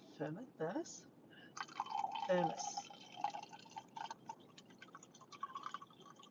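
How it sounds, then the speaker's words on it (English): Tea trickles and drips from a small thermos into a cup in short, uneven bursts, close and quiet, with faint voices talking in between. "fill up the tea with a little thermos"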